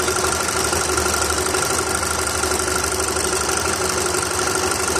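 A VW 2.0 FSI engine in a Mk5 Golf or Jetta drones steadily with a continuous metallic rattle and knocking from a worn timing chain throughout, loud and close, with no pauses.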